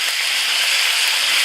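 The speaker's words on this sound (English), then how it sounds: "Then we're gonna add our broccoli in. This is raw broccoli." Raw broccoli sizzles in a pan with frying chicken, giving a loud, continuous, close hiss of hot oil with no breaks or talking.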